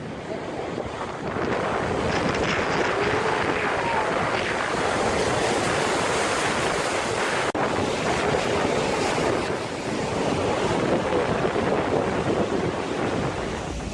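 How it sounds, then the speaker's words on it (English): Massive ocean waves crashing at San Sebastian, Spain, a continuous loud roar of surf with wind buffeting the microphone, steady throughout with no voices. "You can enjoy these massive waves in the Spanish city of San Sebastian."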